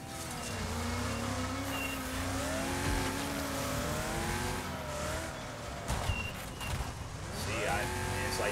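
Cars in the Wreckfest racing game, with engines droning and shifting pitch as they brake and slow, tyres squealing, and a brief clatter near the end, under someone talking over the sound.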